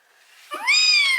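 A single recorded cat meow from a children's sound book, drawn out and tonal, rising quickly then holding steady, clear and close with quiet background.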